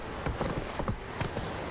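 Hooves of Roach, Geralt's horse in The Witcher 3, clop softly in a handful of uneven, fairly quiet steps against a low background.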